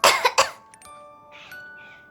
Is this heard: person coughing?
yes